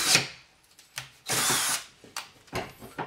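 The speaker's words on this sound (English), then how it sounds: "Now I'm going to drill through the subflooring that I put in." Power drill boring through a cabinet base during a mobile home sink install: short bursts of high whining drilling separated by pauses and clicks, close and fairly loud, with no talk.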